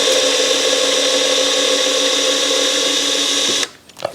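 Power driver unscrewing a flat screw during an electric unicycle teardown, a loud steady whirring hum lasting over three seconds, then stopping abruptly with a few small clicks.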